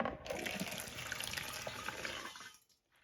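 Red grape must for homemade wine is poured into a large glass bottle, making a continuous, gushing liquid flow for about two and a half seconds before it cuts off into silence.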